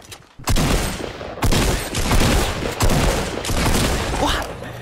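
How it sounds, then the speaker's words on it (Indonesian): Tactical shotgun blasts in Fortnite Battle Royale, four loud booming shots spaced about a second apart, each with a long decaying tail. "bunuh orang yang lagi diem aja butuh 5 kali tembakan shotgun"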